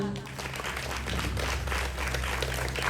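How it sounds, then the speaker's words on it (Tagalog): Loud, sustained applause from a crowd at an elementary school graduation ceremony in the Philippines, steady dense clapping filling the hall with faint voices mixed in. "bigyan po natin ng malakas na palakpak ang mga magsisipagtapos, mga guro at mga magulang"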